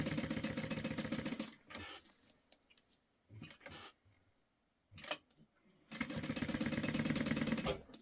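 Sewing machine stitching down both sides of clear jelly vinyl, running in two loud sustained bursts at the start and end with quieter handling and short motor blips between.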